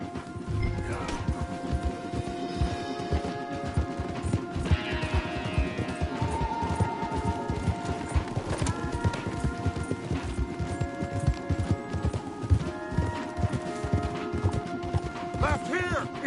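Horses galloping in a PlayStation 4 western action game, rapid rhythmic hoofbeats pounding continuously with occasional rattles and crashes under an orchestral score, while characters shout to each other during the ride.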